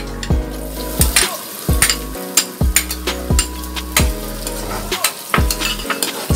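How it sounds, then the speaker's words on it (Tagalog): Onions sizzle in a pan for a potato crab omelette, with a steady frying hiss and repeated clinks and scrapes of a utensil stirring against the pan. "Isayin lang din po natin maigi ang ating sibuyas."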